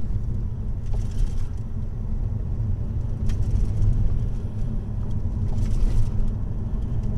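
A car overtakes another vehicle on a road in Turkey, leaving a village behind. A steady, moderate road-and-engine rumble runs throughout, with faint swells and passing noise.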